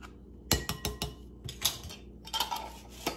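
Metal spoons clink and clatter against dishes and each other in a home kitchen while baking pumpkin snickerdoodle bread, a quick run of sharp close knocks and chimes in irregular bursts.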